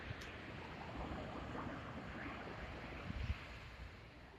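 Pacific Ocean surf at Venice Beach makes a steady, broad wash of rolling waves with some wind buffeting the microphone, fairly faint and continuous with no voices.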